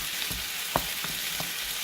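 A chicken and shrimp nem filling fries in a pan with a steady hiss as sauce is stirred in, with a few soft scraping clicks from the utensil, close and moderately loud, with no talking.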